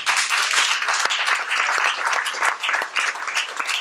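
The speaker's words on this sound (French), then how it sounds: "Vous pouvez l'applaudir." An audience at a poetry night in a media library applauds a poet with lively, close, continuous clapping, with individual claps standing out.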